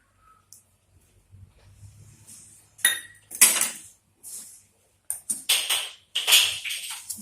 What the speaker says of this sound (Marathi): सगळं मिश्रण आपण परत एकदा मिक्स करून घेऊ.